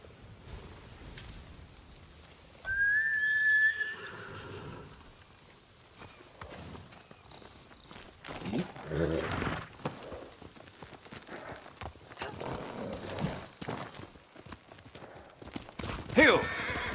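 Steady clip-clop of horse hooves during a ride in Ghost of Tsushima, a soft walking rhythm beneath quiet ambience, with speech heard over the hoofbeats at moments.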